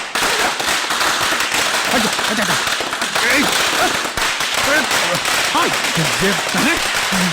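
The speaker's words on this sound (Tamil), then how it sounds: "எவ்வளவு பெரிய சரம் வச்சிருக்கானுங்க" A long, dense string of firecrackers crackles and pops continuously in a Tamil TV drama scene, loud and close, with voices shouting underneath.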